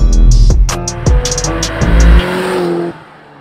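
A dream car pulls away and accelerates hard, its engine roaring up through several sharp gear changes with a crackling exhaust, very loud and close before easing off at the end.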